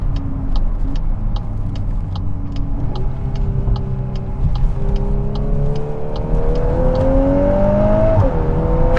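A 2022 Volkswagen Golf R MK8 with DSG gearbox pulls hard under acceleration, its engine note rising steadily in pitch with a faint turbo whir over a deep rumble, heard from inside the cabin with no talk.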